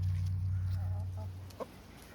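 Backyard chickens in an extra outdoor run cluck softly in a short burst of low, fairly close calls, with a steady low hum underneath.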